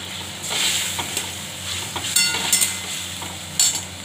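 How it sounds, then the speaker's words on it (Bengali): Food frying with salt and turmeric for a vegetable curry crackles in a steady close sizzle, with a few brief stirring scrapes and light metallic clicks from the pan, no talking. "ভাজা ভাজা হোক"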